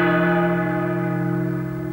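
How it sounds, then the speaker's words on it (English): A large church-style bell rings once for a curfew, its deep tone swelling and then slowly decaying with a long ringing hum and no voices. "Ring the first bell curfew."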